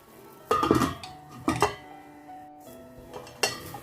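Boiled pork belly is turned in a pot: three short clanking bursts of utensil against metal, close and fairly loud, with quiet gaps between them.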